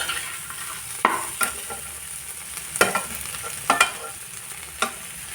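Spices and flat beans (shim) frying together in a pan, giving a soft steady sizzle with a few sharp scraping stirs and clinks at irregular moments, no voices.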